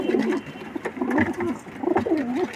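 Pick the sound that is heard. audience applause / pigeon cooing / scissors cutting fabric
pigeon cooing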